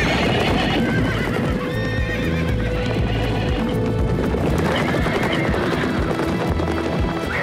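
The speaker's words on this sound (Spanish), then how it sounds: "¡En las escuderías! ¡Liberaron a los caballos!" Horses freed from their stables neigh and whinny repeatedly over a loud, continuous clatter of galloping hooves, a busy and chaotic scene with no talking.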